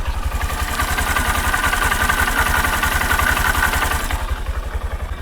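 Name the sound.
motorcycle engine idling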